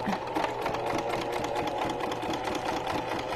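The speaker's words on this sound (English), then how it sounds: "my sewing machine doesn't like zigzags" A home sewing machine runs steadily, stitching a straight line while assembling a junk journal cover, its busy mechanical whir continuous and close throughout with no pauses.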